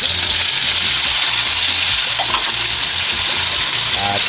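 Tomatoes go into onions sautéing in a pan, giving a loud, dense, continuous sizzle with occasional stirring clinks close by and no talking.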